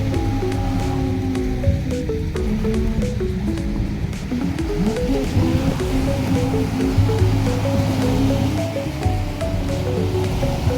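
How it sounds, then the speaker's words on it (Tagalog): Sea waves washing onto the beach at Naic, Cavite, a steady close rush of surf and water, mixed with a tonal background that sounds like music or voices. "Ayan guys ang dagat."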